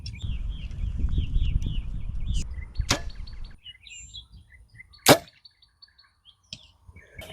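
A compound bow arrow is shot at a 100-yard outdoor target. A sharp snap is followed by a brief whooshing flight and a later distinct impact. Birds chirp in the background and a passing car rumbles early on.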